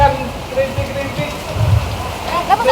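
Light drizzling rain patters steadily throughout, with scattered low thumps and faint voices in the background.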